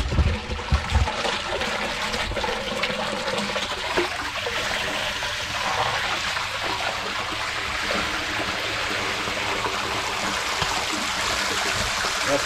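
Water gushes steadily from a valve into storage tanks, a continuous loud rushing flow with no pauses and no voices over it.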